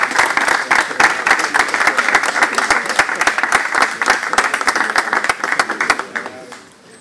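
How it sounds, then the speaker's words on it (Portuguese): Sustained applause from an audience at a Franciscan church celebration in Portugal, dense rapid clapping that holds steady for several seconds before thinning out and fading at the end. "Ao nosso ministro Gerardo, um agradecimento e um grande aplauso."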